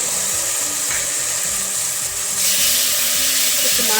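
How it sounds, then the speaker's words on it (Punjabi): Loud, steady frying sizzle as tomato puree goes into a pan of browned onion masala for aloo matar sabzi, with a surge of hissing partway through and rhythmic stirring beneath, no voices. "ਪਿਆਜ਼ਾਂ ਨੂੰ ਆਪਾਂ ਚੰਗੀ ਤਰ੍ਹਾਂ ਭੁੰਨ ਲਿਆ ਸੀ ਤੇ ਹੁਣ ਆਪਾਂ ਟਮਾਟਰ ਦੀ ਪਿਊਰੀ ਪਾ ਦੇਵਾਂਗੇ"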